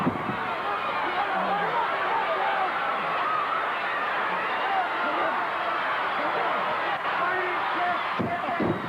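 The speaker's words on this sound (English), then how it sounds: "Gary Hart drawing the cheers from the crowd." Crowd at a 1984 WCCW Championship Wrestling match, a steady roar of cheering and chatter throughout, with a commentator talking over it.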